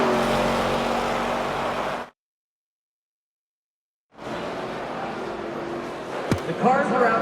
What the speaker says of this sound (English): The cars are out on the track practicing for this weekend's race.